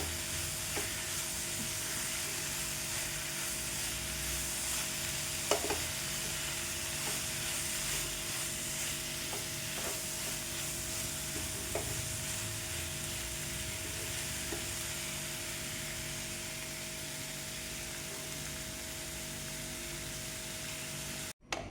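Chicken masala sautéed and stirred in a pan, with a steady close sizzle and hiss of frying that runs on without a break, broken by occasional scrapes and taps of the spoon against the pan.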